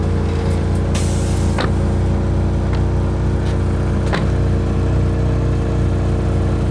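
Mitsubishi Eclipse styled after the Fast & Furious car, fitted with a half-line exhaust: a loud, steady engine drone at idle, close and continuous, with a few faint clicks.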